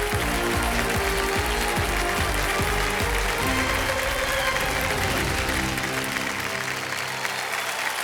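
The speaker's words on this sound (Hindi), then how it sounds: "तालियां बज जाएं जोरदार जरा।" On the Kaun Banega Crorepati quiz show, the studio audience claps loudly and continuously, with a rhythmic musical beat running underneath, before the sound thins out near the end.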